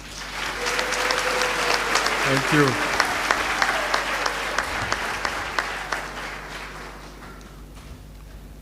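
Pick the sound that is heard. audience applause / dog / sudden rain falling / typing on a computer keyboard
audience applause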